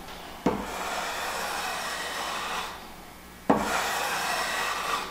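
A finely set block plane shaves a small chamfer along a wooden edge in two long, smooth, hissing strokes, each starting with a sharp bite and separated by a brief pause.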